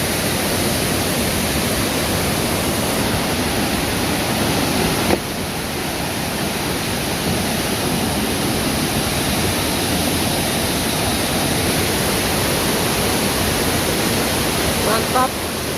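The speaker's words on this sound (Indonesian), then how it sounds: "Air terjun yang sangat luar biasa sekali." Lapopu waterfall in West Sumba crashes in a loud, steady roar of dense rushing water that fills the whole clip, close and unbroken, with a brief dip partway through.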